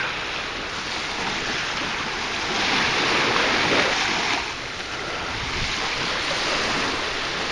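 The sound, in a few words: ocean waves on the bay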